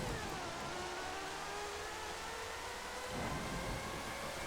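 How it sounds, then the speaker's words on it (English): A Formula 1 car revs and accelerates on the Melbourne circuit in the 1997 game Formula 1 Championship Edition, a steady droning engine whine over a broad rushing noise bed that sounds like rain, with a brief surge near the end. "He's accelerating hard now."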